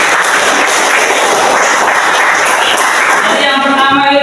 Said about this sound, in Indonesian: Terima kasih berikan tepuk tangan.